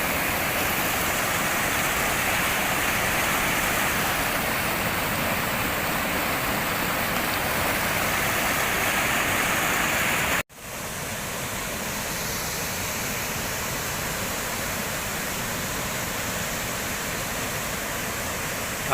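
A waterfall near Attapeu Province, Laos, pours in a steady, loud roar of broadband rushing water, briefly cut off by an edit midway and then resuming just as constant.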